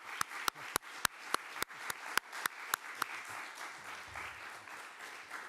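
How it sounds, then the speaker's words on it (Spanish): Audience at a film festival press conference for a film in the official section giving a round of applause, starting with a dozen distinct, evenly spaced claps before settling into a faint, thinning patter. "os pido antes de empezar un fuerte aplauso para ellos"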